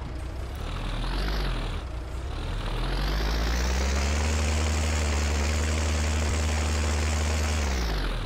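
Tractor engine in Farming Simulator 19, a 1694 model, running with a steady low drone that revs up and down, rising in pitch and holding before dropping at the end, loud and close with no talk.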